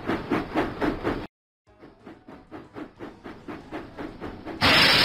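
A cartoon steam locomotive in a Thomas & Friends game chuffs in a steady rhythmic run of puffs, stops briefly, starts again with softer puffs that build, then ends in a loud burst of steam hiss.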